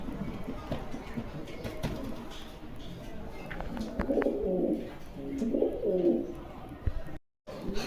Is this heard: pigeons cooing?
yes